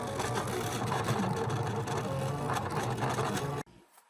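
An embroidery machine stitches an appliqué in a fast, continuous buzzing whir, loud and close, running steadily before stopping abruptly near the end.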